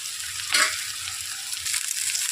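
Pepper frying in a hot pan gives a steady bright sizzle with a brief louder hiss burst near the start, continuing evenly at close range with no voices.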